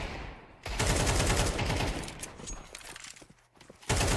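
Automatic rifle spray in a Counter-Strike 2 esports match: dense, rapid bursts of gunfire run almost continuously for several seconds, loud and close, with a brief lull before the shooting resumes.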